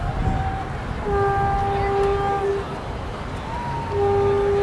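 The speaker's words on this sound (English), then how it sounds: "With their honking support force right here." Passing vehicles sound long, steady horn blasts in support of a Kū Kiaʻi Mauna demonstration at the Hawaii State Capitol, two or three sustained honks over constant traffic and crowd rumble.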